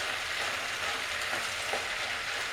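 Vegetables for ratatouille sizzle loudly in a skillet over medium heat while being stirred constantly, a dense close frying hiss with faint scraping, no voices.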